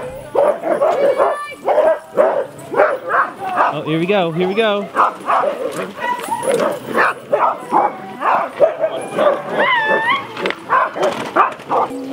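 Sled dogs yip, whine and bark excitedly, close by, just before a dog sled in Muskoka, Canada takes off, with a person speaking over the noise.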